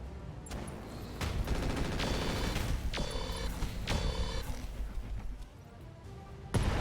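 Weapon fire and an explosion in the RogueTech video game: a loud sustained burst of rapid booming gunfire with ringing metallic impacts, followed by a sharp blast near the end.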